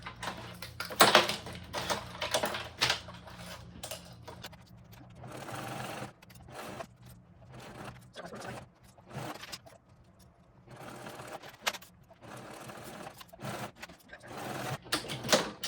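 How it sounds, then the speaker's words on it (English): A sewing machine stitches two sandwiched backpack pieces together in several bursts of running, with short pauses between runs; close and moderately loud, with no talking. "I'm just going to go ahead and sew these together"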